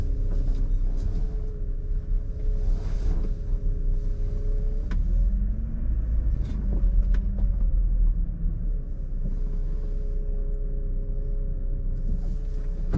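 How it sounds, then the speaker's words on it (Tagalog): An old car rumbles steadily while driving, with a persistent whining tone and a few sharp clunks and rattles breaking through the low road noise. "Luma na talaga tong sasakyan ko mga boss. Natunog na."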